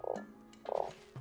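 A frog in the video game Starsand croaks in two low, throaty bursts with a brief pause between them, close and alone.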